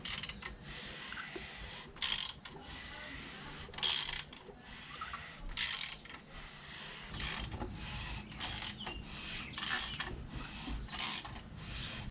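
A torque wrench ratchets repeatedly while tightening connecting rod bolts on a turbocharged BMW M52 engine rebuild, with short clicking bursts at regular intervals, close and clear.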